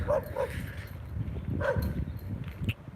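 Dogs barking during an outdoor walk, several short bow-wow barks and yips spread through the moment at moderate distance over a steady ambient outdoor background, with no talking.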